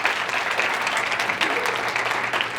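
An audience at a youth motivational talk gives a round of applause, dense sustained clapping across the hall at moderate loudness with no break.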